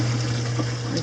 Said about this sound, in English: So this pump returns the water through this tube